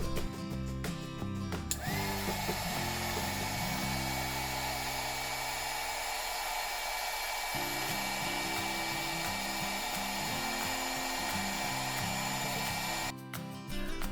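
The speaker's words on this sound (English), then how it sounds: "use hot air to shrink the shrink wrap" A hot air blower runs with a steady, continuous whoosh and hum while shrinking heat-shrink tubing over twisted wire for an LED visualizer build; the tone shifts slightly as it is moved, with no talking.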